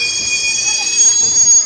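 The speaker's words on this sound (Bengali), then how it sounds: "কেচকি স্টেশনে ট্রেন ঢুকলো।" A passenger train pulling into Kechki station, its wheels giving a loud, steady high metallic squeal over a low rumble, heard up close and without a break.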